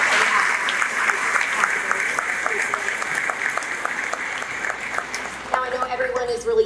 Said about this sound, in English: I think we need another round of applause for our speakers.